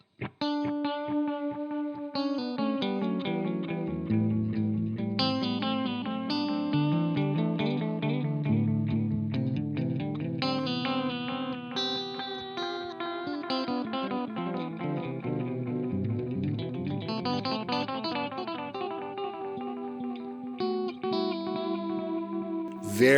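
Electric guitar played through a Carl Martin Red Repeat delay pedal with gentle modulation, each note repeating and swirling into a warm, wobbling echo trail. No talking.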